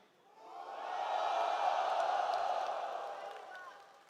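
Large esports arena crowd cheering for FaZe at a match, a roar that swells up over a second, holds loudly with whoops and shouts, then slowly fades.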